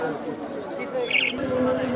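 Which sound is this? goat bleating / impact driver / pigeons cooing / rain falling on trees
pigeons cooing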